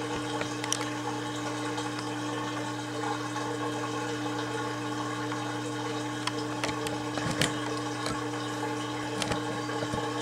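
Water draining from a Kenmore (LG) front-load washing machine, a steady pumping hum with continuous gurgling flow and a few faint clicks, running evenly without speech.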